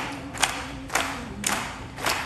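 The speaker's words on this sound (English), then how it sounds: "You guys want to help us with the soul clap?" A festival audience at an outdoor music show claps in time on beats two and four, four evenly spaced sharp handclaps from a crowd at a steady groove tempo.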